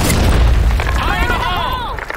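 Grenade explosion in a multiplayer shooter game, a loud booming blast with a crackling, rumbling tail lasting a couple of seconds, mixed with other game effects.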